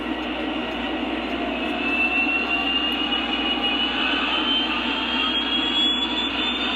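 A Lionel Legacy Amtrak F40PH model locomotive's engine sound revs up as a steady, moderately loud diesel drone with a faint high whine, with no talking.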